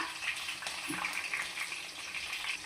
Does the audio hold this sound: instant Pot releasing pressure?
no